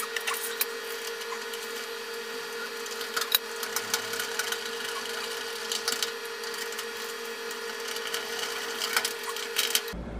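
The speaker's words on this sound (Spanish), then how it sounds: "Ahora vamos a colocar los dos tornillos." Two screws are power-driven while a lock is fitted to a metal ironwork door: a steady, moderately loud motor whine runs throughout, with small clicks and knocks scattered over it.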